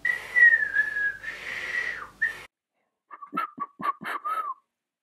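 A person whistles a long wavering tone, then after a pause a series of short chirpy whistled notes, close and clear with no talking.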